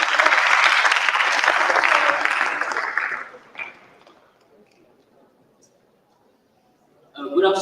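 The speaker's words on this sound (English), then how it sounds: "Est-ce qu'on peut applaudir pour l'accueillir?" Applause welcomes a poetry contest competitor taking the stage at a tech summit in Cameroon. The clapping is loud and dense for about three seconds, fades to a quiet room, and a brief burst of sound follows near the end.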